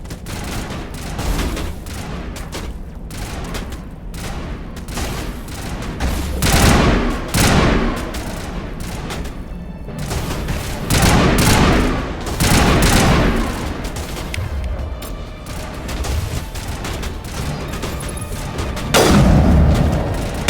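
Heavy continuous gunfire in Mass Effect 1 rattles through a long firefight, with dense shots and louder booming surges spaced every few seconds, loud and close throughout.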